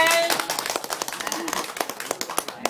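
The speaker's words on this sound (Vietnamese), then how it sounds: "Vỗ tay." A crowd applauds at a stage variety performance, a quick run of claps in uneven bursts under background noise, fairly close and moderate in volume.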